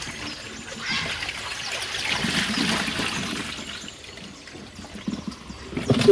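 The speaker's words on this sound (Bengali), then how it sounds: "তো ফেলে দিই জলটা।" Water is poured off live koi fish in a kitchen, a steady close splashing and trickling stream that rises and falls in intensity, with a few louder splatters near the end.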